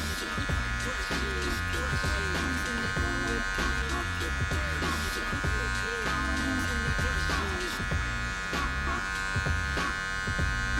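Electric hair clipper with its taper lever set halfway buzzes steadily while cutting hair during a bald fade, a close continuous hum with small shifts as it moves through the hair, and a voice talks quietly beneath it.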